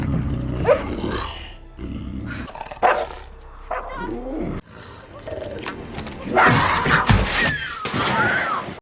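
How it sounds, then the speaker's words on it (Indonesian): A cougar roars and snarls in snowy mountain wilderness, harsh loud growling bursts mixed with barking dogs and shouting voices in a chaotic close-up scuffle. "There's a cougar."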